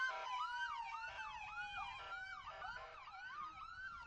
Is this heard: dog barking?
no